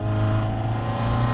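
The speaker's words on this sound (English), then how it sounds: "You can hear the turbo go." A Peugeot 308 GTi turbo fitted with a decat downpipe, its engine held at a loud, steady, droning rev with a raspy buzzing tone, close and alone with no talk.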